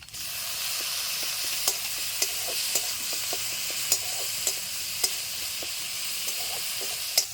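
A paste of ginger, garlic and green chilli hits hot oil with chopped onions and whole cumin, giving a steady bright sizzle with occasional soft clicks of stirring.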